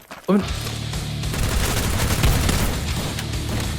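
Rapid bursts of charge gun fire in the Free Fire video game, a dense, sustained rattle of shots following a sharp opening blast, loud and continuous with faint voices underneath.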